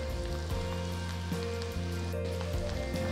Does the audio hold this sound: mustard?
yes